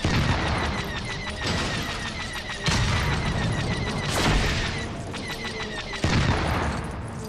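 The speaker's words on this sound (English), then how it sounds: "Is it just me or the explosion is a little bit bigger than last time I blew up all this stuff?" Video game explosions in Lego Star Wars: The Skywalker Saga burst repeatedly, loud booms and crackling blasts arriving every second or two over a dense, continuous roar of game noise.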